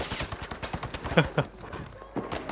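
Gunfire in the World War II shooter Battlefield V: a quick series of sharp shots with two louder bursts near the middle, heard alongside busy game sounds and fragments of talk.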